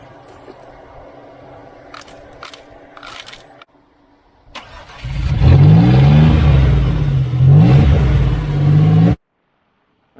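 Subaru engine cranking and catching, then revving hard with rough, uneven surges while being fed marbles, nails and screws, loud and close for about four and a half seconds before cutting off abruptly.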